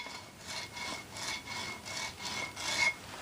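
Rhythmic scraping and rubbing from a badly pitted brake rotor on a 1966 Ford Thunderbird, about six steady back-and-forth strokes at close range with no talking.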